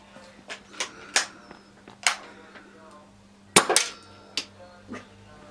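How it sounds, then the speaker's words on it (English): Daystate Pulsar air rifle fired repeatedly over a chronograph, a series of sharp close cracks spaced a second or so apart, with a tight double burst midway and faint background hum. "We're just going to bang 10 shots over it just to see the consistency."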